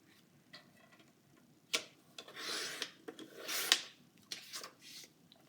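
A paper trimmer slices cardstock into 3 by 3.5 inch pieces for a scrapbook page: soft sliding, rasping strokes and a few light ticks and taps, close and quiet, with no talking.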